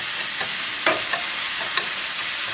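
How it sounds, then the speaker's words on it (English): Onions and peppers sauteing gently in very little oil over a light flame, a soft steady sizzle with a few light stirring scrapes and taps, close and alone. "We'll let this saute for a few minutes."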